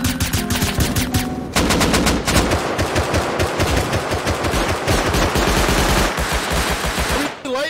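Fireworks in the game Rust fire off in rapid, loud bursts, dense crackling volleys that continue almost without pause for several seconds.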